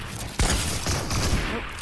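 Gunshot in the video game Fortnite, a sharp loud report followed by a second blast, set against busy game noise.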